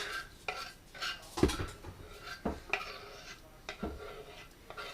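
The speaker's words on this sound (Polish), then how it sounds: "bijamy trzy jajka" Three eggs being beaten for an omelet with a utensil in a bowl: irregular clinks and scraping knocks, fairly quiet and close, over a soft background hiss. No voices are heard.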